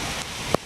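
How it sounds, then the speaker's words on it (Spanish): Heavy torrential rain in Miami, Florida, a steady hiss of downpour over a brief moment, with one sharper splash or drip standing out near the end, no voices. "Llueve súper fuerte."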